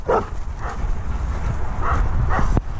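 A pet dog gives several short, close barks and yips spaced at irregular intervals over steady background noise, with no clear talk.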